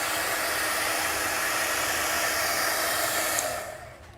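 A hair dryer blows with a steady, loud rushing whoosh, cutting off near the end as the airflow dies away.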